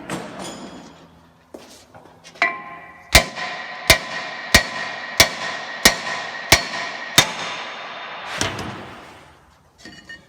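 A series of sharp metallic hammer taps on rotor stud retainers of a Jeep, about eight evenly spaced strikes ringing close and loud, after some clinking handling sounds.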